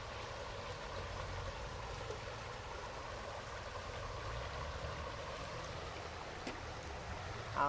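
Creek water runs steadily past small waterfalls, a continuous broadband rush and gurgle of even loudness with a faint splash near the end and no talking.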